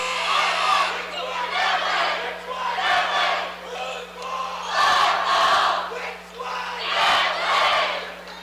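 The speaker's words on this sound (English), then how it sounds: "As the Knights student cheering crowd getting them all wound up." A student crowd at a high school basketball game, Knights fans, roars and cheers in loud rising and falling waves over several seconds, with scattered shouts inside the din.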